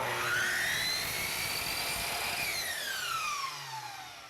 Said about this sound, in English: cut the left side by holding the bottom of the molding up against the fence of the saw